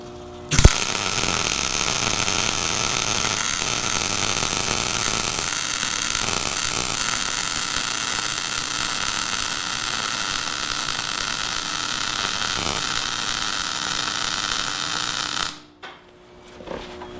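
A MIG welder lays weld beads in one steady, loud crackling hiss that runs unbroken for about fifteen seconds before cutting off sharply.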